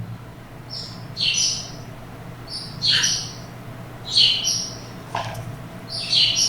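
Birds chirp and tweet in short bright bursts very close to a window, several calls repeating every second or so over a quiet, steady background hum.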